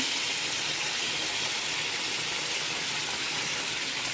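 A pot of chicken curry with water added, cooking with a steady, loud hissing bubble that holds evenly throughout with no talk.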